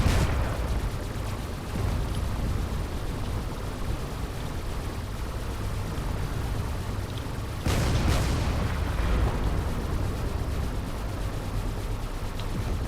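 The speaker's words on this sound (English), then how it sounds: "All these auto cannons are slowly chewing through that armor." Autocannon fire strikes armor in the video game Drone Wars, a dense continuous rumble of impacts punctuated by a sharp, loud blast near the middle.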